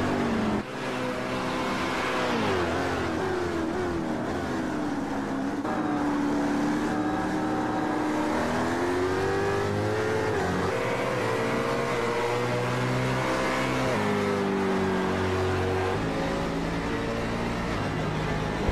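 Race car engines at Suzuka in a GTC racing video game, a loud continuous drone with rising and falling pitch as the cars accelerate and shift, steady throughout with no talk.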